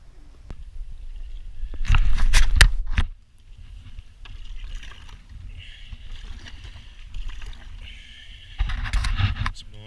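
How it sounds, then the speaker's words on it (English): A sea kayak is paddled out across open water in the morning off Menorca. Splashing strokes and water wash are heard against faint wind, with a couple of louder, closer bursts of paddle noise. "It's morning now, so I'm just kayaking out."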